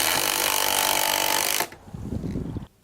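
A Hikoki hydraulic impact driver drives a stainless screw into a pre-drilled hole with a steady, buzzing whir at close range, fairly loud, ending abruptly after about a second and a half, followed by lower rattling handling noise.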